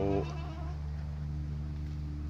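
Goats and sheep bleat on a farm, one short close call at the start before a steady low hum and background noise take over.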